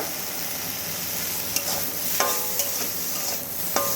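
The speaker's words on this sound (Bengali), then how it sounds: "হালকা করে শুধুমাত্র বেগুনটাকে এই তেলের মধ্যেই ভেজে নেব সামান্য একটুখানি নুন দিয়ে দেব" Eggplant frying in oil with a little salt, a soft steady sizzle close by, broken by a few sharp scraping stirs of a utensil against the pan.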